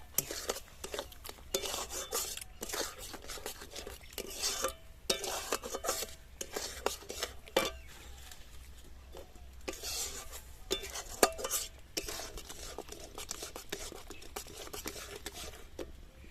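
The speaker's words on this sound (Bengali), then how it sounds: "চিনি দিয়ে প্রথমে নাড়াচাড়া করতে হবে, তলায় লেগে যাবে না হলে" Raw mango pulp cooked down with sugar for homemade amsatta, stirred in a pan with repeated spoon scrapes and soft clinks against the metal, fairly quiet and close, with a faint sizzle.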